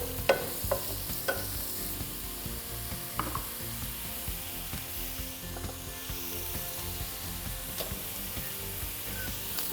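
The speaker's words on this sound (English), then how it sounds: "we want to pan fry that until it's lightly golden" Onions, carrots and garlic pan frying with a soft, steady sizzle while a utensil stirs and scrapes the pan in irregular knocks and clicks, fairly quiet and close with no talking.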